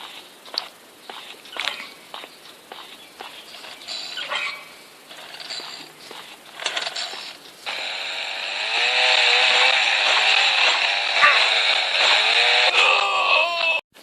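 A loud buzzing chainsaw wielded by an enemy in an office horror video game revs up and drones steadily, preceded by scattered thuds and footsteps, game-style sound effects.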